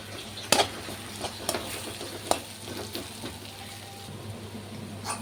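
Sliced onions and curry leaves for a cabbage egg poriyal sauté in a pan, a steady close sizzle punctuated by several sharp spoon scrapes and clinks as they are stirred.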